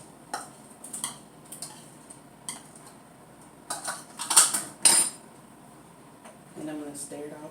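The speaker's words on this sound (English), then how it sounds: "And I'm going to stir it all together." Spoon clinking against a cup while stirring lemon ginger tea: scattered close, bright taps and clinks in a quiet room, with a brief remark from a speaker near the end.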